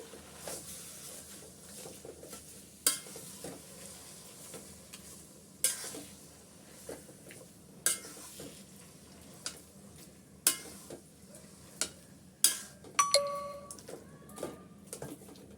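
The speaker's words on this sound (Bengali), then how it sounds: "করে আমি তেলের সাথে মিক্স করে নিচ্ছি" Olive pickle is stirred through hot oil in a pan, a continuous soft sizzle broken by sharp scrapes and clacks of the spoon every few seconds, close by and with no voices.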